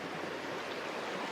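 Steady rushing stream water at a hiking trail crossing on the Eagle Rock Loop, a continuous broadband wash of flowing water over rocks, close and even throughout with no voices.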